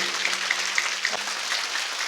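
A seated audience claps in dense, sustained applause, a steady wash of many hands at a stage event, with no talk over it.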